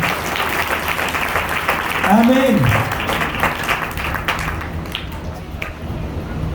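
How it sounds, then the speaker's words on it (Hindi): A church congregation claps loudly in a full, continuous burst of applause, with a voice calling out briefly over the clapping before it tapers slightly. "जोरदार ताली बजाए।"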